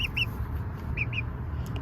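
Chickens in a coop give short high clucks and chirps in two quick pairs over a steady low background rumble, fairly close, with no talking.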